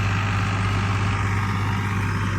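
A tractor engine idles in a farm field during pesticide spraying, with a loud, steady low rumble and a constant drone that holds throughout without talk.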